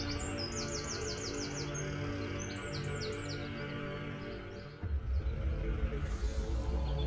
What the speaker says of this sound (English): If you listen closely, you can hear the birds singing.